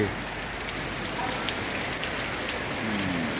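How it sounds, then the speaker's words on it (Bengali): Heavy rain pours down in a dense, continuous hiss, steady and fairly close, with scattered droplet patter and no break. "কঠিন বৃষ্টি হচ্ছে"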